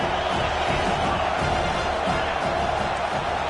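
A football stadium crowd at a college game roars and cheers in a dense, steady wall of sound with no breaks, loud and constant throughout.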